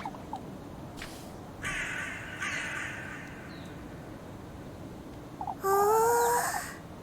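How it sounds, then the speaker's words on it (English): Crows caw in a video game, several harsh calls scattered over a steady outdoor ambience, with a louder cluster of overlapping caws near the end. "Oh, there's so many crows."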